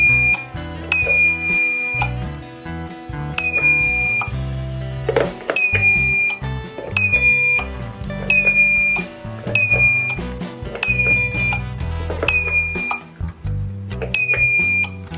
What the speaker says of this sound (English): So this is how this 600-digit quiz buzzer project is working.